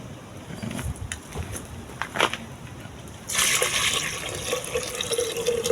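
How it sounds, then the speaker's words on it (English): Coconut milk pours into a pot of peas on the stove, a steady liquid splash that starts suddenly partway through and continues loudly to the end over quieter kitchen background. "Time to get the coconut milk in the peas pot now."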